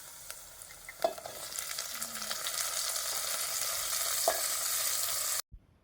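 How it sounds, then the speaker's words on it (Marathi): Raw jackfruit is stirred into onion frying in mustard-seed oil in a pan, a faint steady sizzle with a few soft spoon scrapes, close by and without talk, cut off abruptly at the end. "त्यानंतर वरून फणसाची भाजी घालून ढवळून मिक्स करून घेतली"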